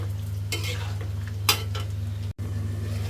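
Koi fish sautéed with sliced taro in a pan: soft sizzling with a few sharp scraping stirs of a spatula, over a constant low electrical hum.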